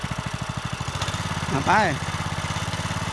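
Small walk-behind farm tiller engine running steadily while ploughing a field, its rhythmic low pulsing rising briefly as it revs, with someone talking over the motor.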